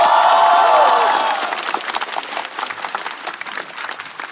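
At a stand-up comedy show, the crowd welcomes a rapper to the stage: a voice trails off, then scattered, crisp claps and cheering rise and carry on at a moderate, slightly fading level.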